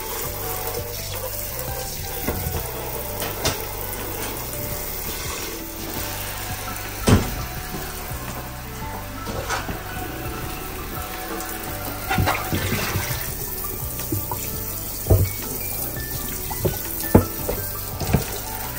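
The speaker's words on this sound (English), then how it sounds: "it's just kind of the final rinse down before they go to freezer can." Tap water runs steadily over freshly butchered turkeys in a final rinse, a continuous splashing stream with occasional louder knocks and thuds as the birds are handled, no voices.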